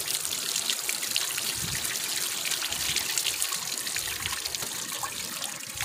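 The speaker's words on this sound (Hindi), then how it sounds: "अभी इसमें थोड़ा पानी लगा रहे हैं" Steady hissing water splashes and trickles continuously at close range as water is sprayed onto a Honda CD 70 motorbike being washed at home.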